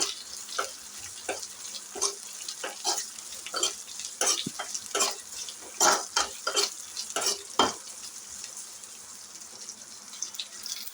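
Pirandai (adamant creeper) already fried in oil is stirred in a pan, a frying sizzle underneath with repeated scraping strokes of a spoon against the pan, close and moderately loud, no voices.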